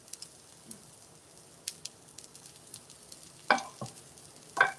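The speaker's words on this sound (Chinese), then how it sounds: "现在我要开始煎我的肉饼" A meat patty for homemade pet food fries in a flat frying pan with oil, a faint, steady sizzle broken by a few sharper crackles and louder spits near the end. No one talks.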